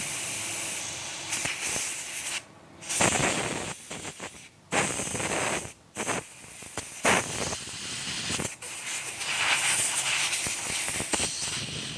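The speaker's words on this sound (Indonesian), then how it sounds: "Semprot lagi pakai angin." Compressed air sprays in loud, harsh bursts of hiss onto a motorcycle fuel injection part, several blasts of varying length broken by short pauses.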